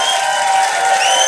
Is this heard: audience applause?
yes